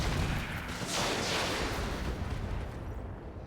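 Weapons fire from a RogueTech mech battle, a dense rumbling barrage of booming shots that swells into a loud bright burst about a second in, then rolls on steadily without talk.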